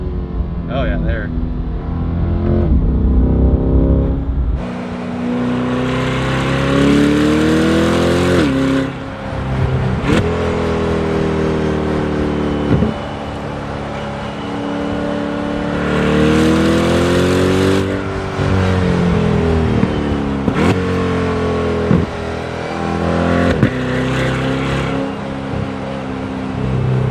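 A Corvette C8 or Ferrari 458 sports car accelerates hard in repeated surges, its engine rising in pitch through the gears with brief dips at each shift, loud and near, while people talk over it.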